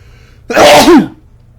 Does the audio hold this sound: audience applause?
no